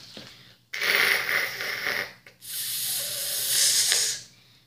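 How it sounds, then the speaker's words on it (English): Spray paint can hissing in two long bursts, the first about a second and a half and the second nearly two seconds, separated by a short pause, loud and close with no talking. "And I'll need my spray paint."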